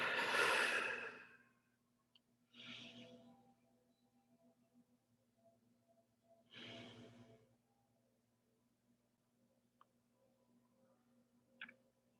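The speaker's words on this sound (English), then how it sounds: "Breathing in through the nose, we exhale out through the mouth." Deep breathing during a Pilates class, slow inhales through the nose and long exhales through the mouth, three audible breaths spaced several seconds apart with quiet gaps and faint clicks between.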